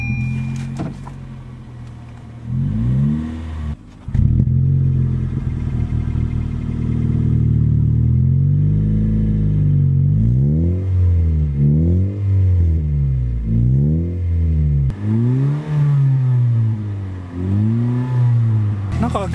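A Honda Fit Hybrid fitted with a J's full-titanium muffler runs steadily at close range, a smooth, moderate engine note swelling and easing in repeated gentle revs, with occasional voices around it.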